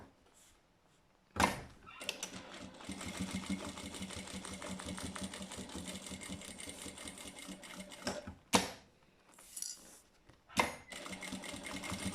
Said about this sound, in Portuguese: E agora sim vou passar uma costurinha para fixar os bolsos ao corpo da carteira.